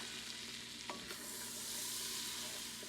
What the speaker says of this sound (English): So get some flour and sprinkle that around and then stir it.